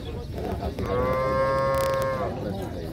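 Cattle at a livestock fair, one long, clear moo rising out of the busy background chatter of the crowd.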